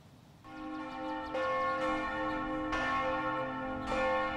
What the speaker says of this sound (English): The bells were ringing out for Easter morning.